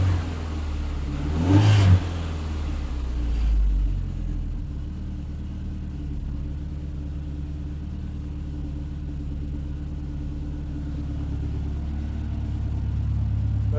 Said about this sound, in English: It makes a little bit of unpremium noises when you give it a little bit of throttle.